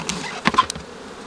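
Honeybees move about the upper box of a hive, giving a few short, close buzzes that flare and fade within about a second over quiet background.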